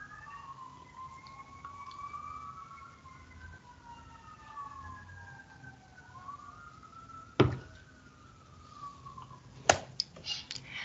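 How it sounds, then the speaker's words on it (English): Emergency sirens wail in long rising and falling sweeps from a distance, with a couple of sharp nearby knocks. "Now you may hear the sirens."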